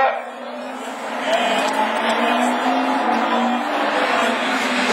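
Rallycross Division 4 cars launch off the start line, a loud, rising roar of several engines revving together with tire noise, with an excited commentator talking over it.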